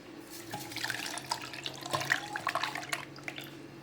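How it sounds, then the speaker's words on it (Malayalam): Chilled milk from the freezer poured into a blender jar of carrots and cardamom for carrot juice, a close, steady liquid splash and gurgle lasting the whole moment. "ഇതിലേക്ക് പാൽ ഒഴിച്ചു കൊടുക്കാം ഫ്രീസറിൽ വെച്ച് തണുപ്പിച്ചെടുത്ത പാലാണ് അത്"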